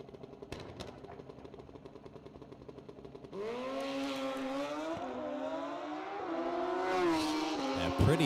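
Racing motorcycle number 14X runs a lap at a finals race meeting: idling pulses give way to a sharp rev, then the engine climbs and shifts through gears in a loud, sustained whine up close.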